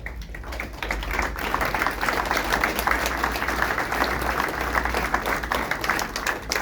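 An audience at a political gathering applauds in memory of the dead, a dense steady clapping from many hands that holds for several seconds after a brief quieter start.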